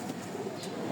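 Rajgolla pigeons giving a brief low coo, faint and muffled against steady background noise.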